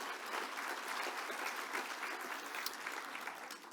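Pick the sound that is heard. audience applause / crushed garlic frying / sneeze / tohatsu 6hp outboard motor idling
audience applause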